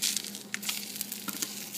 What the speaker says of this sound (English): Look at that, it's frying up.